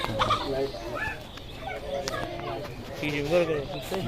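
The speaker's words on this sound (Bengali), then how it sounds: "টাইগার মুরগি এখন ছেড়ে দিয়েছি সেগুলো ঘাস খাইতেছে" Tiger chickens grazing on grass cluck and murmur repeatedly nearby, with a person talking over them outdoors.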